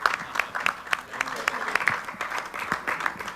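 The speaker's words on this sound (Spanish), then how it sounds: "Aplausos." Brief applause in a Senate chamber during a legislative session, uneven bursts of clapping from scattered hands, fairly close, with some voices mixed in.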